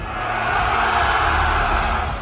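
A large crowd at a live coaching event shouts together in a loud, sustained roar that holds steady for a couple of seconds without a break.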